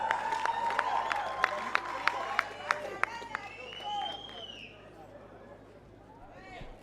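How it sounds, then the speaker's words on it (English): A boxing crowd at a combat sport event applauds the fighters, loud clapping with sharp individual claps standing out and crowd noise underneath, while a voice speaks over it before the sound thins out. "Let's give a round of applause for the boxers one more time."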